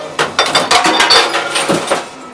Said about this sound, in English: Listen to the sound of that glass smash.